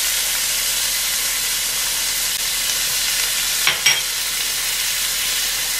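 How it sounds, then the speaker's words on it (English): Manchurian chicken fries in a pan with a steady, close sizzling hiss, broken by a brief louder crackle partway through. "we don't have to fry too much, we don't have to burn"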